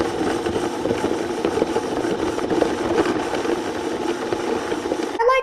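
A blender whirs at low speed, steady and close, as it mixes dates and banana into a smoothie, with a faint rattle and a brief clunk at the very end.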